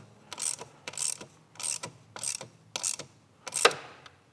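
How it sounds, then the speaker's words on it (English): Ratchet with a 10mm socket tightening a bung near the chargepipe on a BMW B46/B48 engine, six crisp bursts of rapid clicking in an even rhythm, close and alone. "make sure this one's tight as well with a 10mm"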